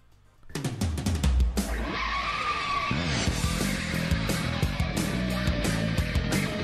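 Racing cars in the NASCAR Rumble video game rev and screech, with sharp repeated tire skids and squeals over engine drone and crash-like bursts, loud and busy throughout.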